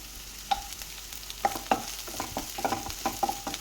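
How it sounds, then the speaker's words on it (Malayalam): A pumpkin curry base with green chillies is sautéed in a pan, with repeated spoon scrapes and clinks against the metal over a low, continuous sizzle. "ഈ ഒരു സമയത്ത് നമുക്ക് പച്ചമുളക് കൂടെ ചേർത്ത് കൊടുക്കാം എന്നിട്ടിത് നന്നായിട്ടൊന്ന് വഴറ്റി കൊടുക്കാം"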